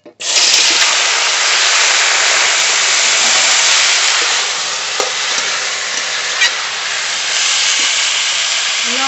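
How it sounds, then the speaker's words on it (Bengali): Taro stolons (kochur loti) drop into hot oil for a prawn curry, setting off a loud, steady sizzle that holds for the whole stretch, with a few faint clinks of stirring and no talk. "এই তেলের ভিতরেই কচুরলতি দিয়ে দেব"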